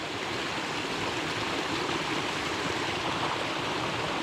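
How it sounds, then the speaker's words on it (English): A waterfall in an outdoor natural setting pours in a steady, dense broadband rush, close and loud without pause, with no voices or other sounds over it. "The water, that waterfall over there, and this one."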